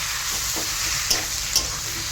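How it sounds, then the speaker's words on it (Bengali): Boiled greens are stirred in a pan over a low flame, a steady close sizzle with a few scraping strokes of the spoon. "এবার আমি অল্প হালকা সিমে দিয়ে আমি এটা নাড়ব।"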